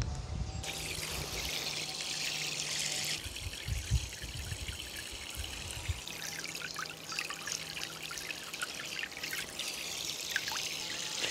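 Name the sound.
portable camping shower spraying water after pressing button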